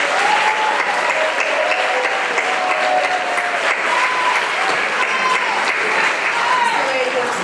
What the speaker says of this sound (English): Mr. Bob Lake needs a great round of applause.